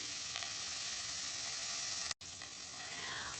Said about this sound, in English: I saute onions lightly.